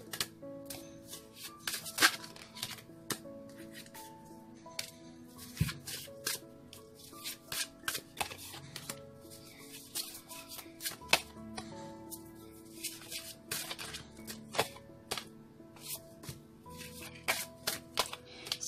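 Tarot cards are shuffled by hand indoors, giving quiet, rapid papery riffles and taps in uneven bursts close to the microphone.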